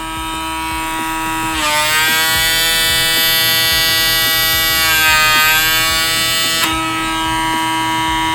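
A home microdermabrasion device runs with suction against facial skin, a loud steady electric whine with a sustained tonal hum that rises in pitch for several seconds while in contact, then drops back as it lifts away.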